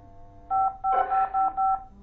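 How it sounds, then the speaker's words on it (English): Telephone keypad dialing, five short even tone beeps in quick succession, close and clear over a quiet room with faint background hum. "I'll just call Jerry and see if the party's still on"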